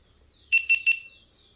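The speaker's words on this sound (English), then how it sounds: "And it keeps beeping, keeps flashing the lights, but it doesn't turn on." A brand new GoPro Hero 10 Black camera, frozen after an update and failing to start, emits three quick high-pitched electronic beeps in a row, close and clear against near silence.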